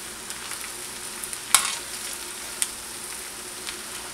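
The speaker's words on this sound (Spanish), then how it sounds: "remeneamos bien el culantro así" Cilantro stirred into shrimp rice in a frying pan, a steady close sizzle of frying with a couple of soft scraping stirs standing out.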